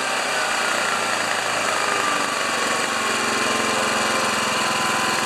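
An old Honda EB2200X generator runs steadily, its engine giving a dense buzzing drone with a high mechanical whine, loud and close, holding even throughout without speech.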